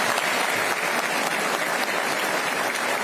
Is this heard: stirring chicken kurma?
no